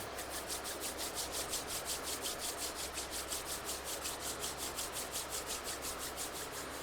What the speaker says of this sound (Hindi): ऐसे गैप में रब कीजिए।